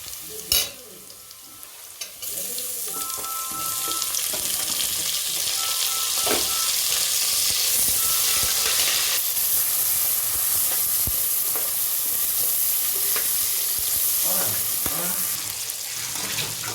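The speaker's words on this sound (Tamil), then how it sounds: "வெங்காயம் பொன்னிறம் ஆயிடுச்சு. இப்போ தக்காளி போட்டுக்கோம்." Tomatoes dropped onto golden fried onions in a pan for mushroom biryani: a quieter start gives way to a loud, continuous hissing sizzle with occasional stirring knocks and scrapes, close and sustained, with no one speaking.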